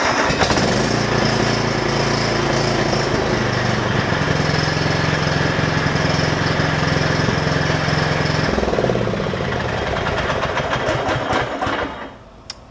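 A lawn mower engine runs loud and close with a steady buzzing drone, then winds down and stops after about nine seconds, with faint clatter as it fades out.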